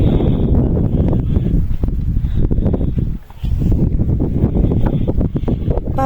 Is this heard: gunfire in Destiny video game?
no